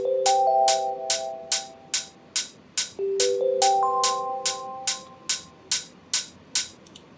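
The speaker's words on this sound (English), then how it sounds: "this is the Analog Lab preset that I'm using for mallet sound." Analog Lab mallet synth preset from an electronic track, plinking bright bell-like notes over a steady rhythmic pulse, moderately loud and with no talking.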